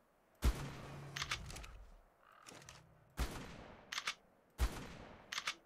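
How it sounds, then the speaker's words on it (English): Gunfire in Ark Survival Evolved as a player shoots at aloe plants on The Island map: three sharp shots spaced about two seconds apart, each followed by quick mechanical clicks, with quiet gaps between them. "I don't know why I'm shooting at those aloes."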